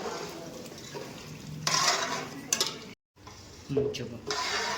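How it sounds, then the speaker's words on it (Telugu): Fenugreek powder, chili powder, mustard powder and salt stirred into oil for an Andhra mango pickle, a soft scraping and mixing texture with a short gap partway through, close and fairly quiet. "బాగా ఆయిల్లో మిక్స్ చేసుకొని కలబెట్టుకోవాలి"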